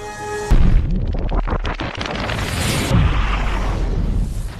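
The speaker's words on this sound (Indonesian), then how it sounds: "Ledakan tersebut membuat Clue dan seluruh program yang berada di dalam The Grid hancur" A loud, sudden explosion in the film Tron: Legacy bursts in, followed by a series of sharp booming blasts and a rumbling roar that sustains and swells again near the end.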